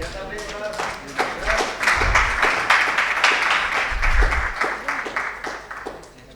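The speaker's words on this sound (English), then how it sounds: "A huge round of applause for the team." Applause breaks out for an award-winning team at a corporate social responsibility awards ceremony, with close, crisp hand claps building into a full, steady round that tapers off near the end, and a voice heard faintly beneath it.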